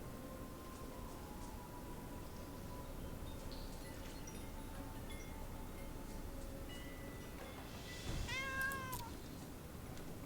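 A house cat gives a single short, rising meow near the end, faint and a little distant over a steady background hiss, following a long stretch of near-quiet.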